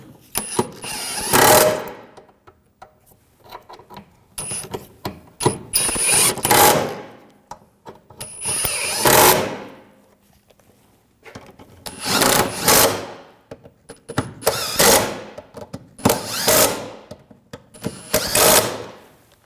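Bolts being tightened on the rear wheel bearing of a 2007-2013 BMW 328i, heard as several bursts of ratcheting and power-tool whirring, each lasting a second or two, with quiet gaps between them, close and fairly loud.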